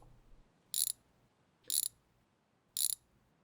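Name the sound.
ratchet undoing bolts on a car's suspension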